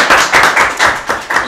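Applause for a correct answer at a quiz-style club event, a short burst of loud close hand claps in a quick uneven rhythm, with no talking over it.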